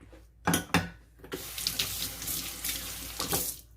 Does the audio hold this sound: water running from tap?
yes